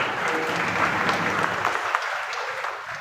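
Audience at a Marathi kirtan breaks into a burst of applause, many hands clapping together in a dense, close wash that thins slightly toward the end.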